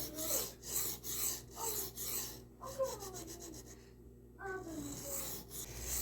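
Knife blade being sharpened on a diamond plate, a steady raspy scraping in repeated back-and-forth strokes, close and fairly loud, with a few brief high squeaks.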